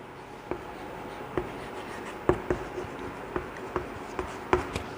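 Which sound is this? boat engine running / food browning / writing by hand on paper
writing by hand on paper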